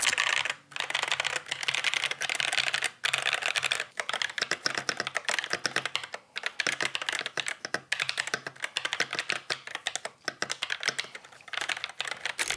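Rapid, continuous typing on a mechanical keyboard with Gateron Black switches, close and crisp, with dense clacking keystrokes and a few brief pauses.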